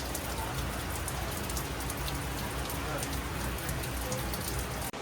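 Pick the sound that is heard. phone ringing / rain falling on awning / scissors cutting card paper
rain falling on awning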